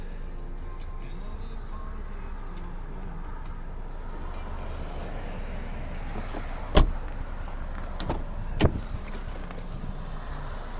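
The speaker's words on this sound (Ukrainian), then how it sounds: "Складування дзеркал, всі чотири склопідйомники." The power windows and folding mirrors of a 2011 Mazda 6 with a 2.0 petrol engine are operated. A low motor hum runs throughout, with two sharp clunks as the mirrors or windows stop, and there is faint background noise.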